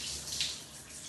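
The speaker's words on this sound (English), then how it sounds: "here I am in my nice warm shower," A warm household shower runs steadily in a brief close recording, a continuous hiss of spraying water with a slight surge partway through and no voices.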